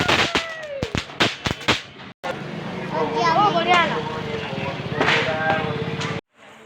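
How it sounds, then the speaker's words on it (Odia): A small sparkling firecracker lit at home for Diwali gives a quick run of sharp crackling pops, then a sustained fizzing hiss that cuts off abruptly. Voices can be heard under the fizz. "ଲଗେଇବି ଏଇଟା ଗୋଟେ ଛୋଟିଆ ଛୁଡ଼ଛୁଡ଼ିଆ ବାଣଟେ।"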